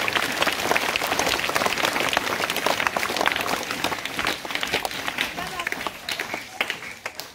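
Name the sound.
audience applause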